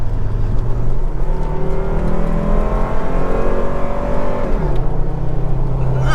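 1992 Volvo 850 with a five-speed accelerating hard onto a motorway, a loud in-cabin engine note climbing steadily in pitch before dropping at a gear change, with road and wind noise underneath.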